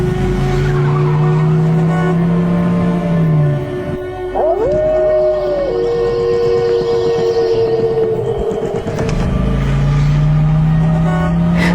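A car is started and pulls away, heard as a loud engine hum and a rising whine mid-way with a brief screeching skid, then the steady drone of the moving car.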